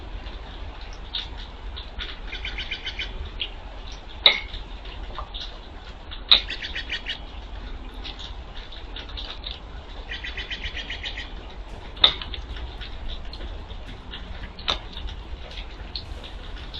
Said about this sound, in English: Check out these birds, everybody.